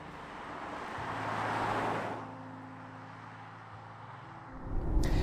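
Inside a Polestar 4 electric car cruising on a motorway at a steady 120 km/h with regeneration off, a constant muffled road and wind roar holds steady, with no voices.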